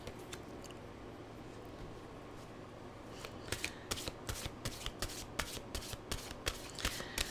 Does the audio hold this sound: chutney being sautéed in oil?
no